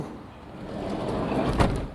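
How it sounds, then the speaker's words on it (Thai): Sliding door on a white 2015 Toyota Commuter van rolling shut, a steady sliding rumble that ends in a sharp latching thud near the close, recorded up close with no talk over it. "ปิดประตูนะครับ"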